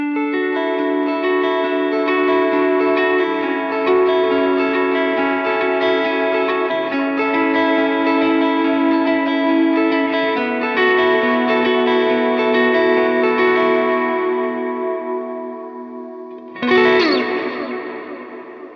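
Electric guitar lead tone through a Line 6 HX Stomp with modulation, echo and reverb effects, playing sustained melodic lines, loud and close, ending on a bright strummed swell that fades out.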